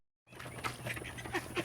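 Ducks quacking repeatedly at close range around large water tubs during morning chores, a steady run of nasal calls with no talk.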